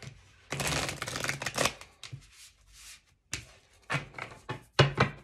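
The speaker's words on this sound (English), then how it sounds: "Let me just make sure I shuffle these good" Tarot cards being shuffled by hand, several close riffling bursts of crisp paper flutter separated by short pauses, with quieter handling sounds between them.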